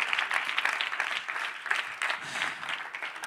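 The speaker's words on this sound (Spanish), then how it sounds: "Es el momento bonito para darle un aplauso, ¿no te parece?" A church congregation applauds during a sermon, a fairly soft but continuous spread of many hands clapping at some distance, with no talking over it.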